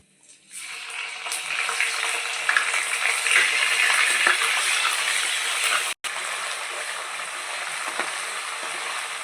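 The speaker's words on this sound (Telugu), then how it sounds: "ఇప్పుడు మన ఇదే ఆయిల్లో మనం అల్లం వెల్లుల్లి పేస్ట్ వేసుకోవాలి." Ginger garlic paste dropped into hot oil left from frying mutton for pickle, a sudden strong sizzle that swells and holds steady, with a brief cut partway, and no talk.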